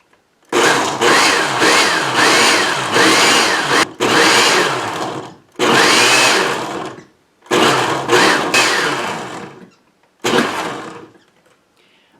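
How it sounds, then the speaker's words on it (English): A blender pulses strawberries, pineapple and lemon juice into a puree, running in five loud whirring bursts of one to two seconds each, separated by short pauses. "we're just going to pulse this until it's a puree"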